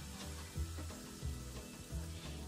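Bacon sizzles quietly on a griddle with a steady, faint crackle, punctuated by soft rhythmic knocks and scrapes roughly every two-thirds of a second.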